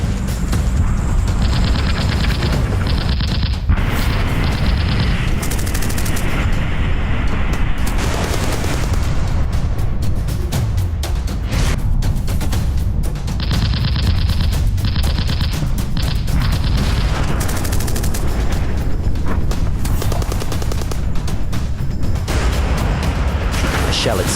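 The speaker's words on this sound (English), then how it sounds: "The 190 stays on their tail, firing across the aircraft." Dense, continuous cannon and machine-gun fire from an Fw 190 fighter attacking a Lancaster bomber in a WWII dramatization, with booms and crashes layered over a roaring mix, while a voice speaks throughout.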